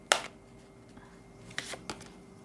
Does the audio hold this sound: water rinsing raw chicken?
no